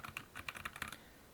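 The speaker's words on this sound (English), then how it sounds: "I'm banging on a mechanical keyboard while speaking into the microphone" Keys clack on a mechanical keyboard in a quick burst of about a dozen sharp, close strokes, then stop, with no speech.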